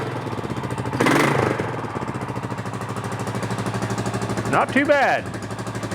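A Honda TRX350TE Rancher ATV engine idles with an exhaust leak at the header-to-muffler connector, producing a close, steady rapid chugging putter throughout, while someone speaks briefly over it.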